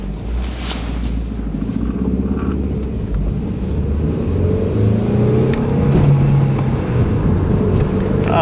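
Engine of a Hyundai Tiburon with a manual clutch and a recently repaired transmission hums and revs up steadily from inside the car, a low continuous rumble that rises gradually in pitch and loudness.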